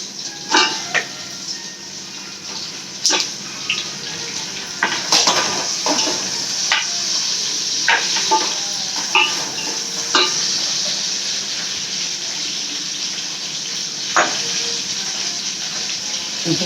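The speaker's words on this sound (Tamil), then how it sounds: "இப்போ வந்து தக்காளி போட்டுக்கலாம்." Steady sizzling of tomatoes frying with softened onions in a pan for biryani, with repeated sharp scrapes and clinks of a stirring spoon against the pot throughout.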